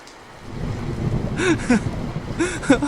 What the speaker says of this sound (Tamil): அன்று இரவு வானமே பொத்து கொண்டது பலத்த காற்றோடு பெய்த மழை